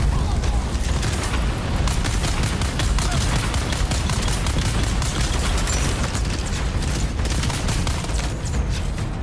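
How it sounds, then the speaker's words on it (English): Sustained automatic gunfire in the Dune Awakening video game, a continuous rapid rattling burst with dull booms underneath, loud and steady throughout. "I was not pressing the shoot button there, and it just started shooting."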